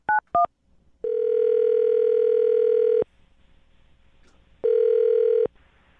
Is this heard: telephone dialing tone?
yes